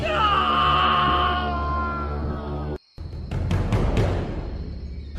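A man's drawn-out scream of horror in an animated horror story, loud and wavering, breaking off abruptly, then followed by harsh noisy bursts.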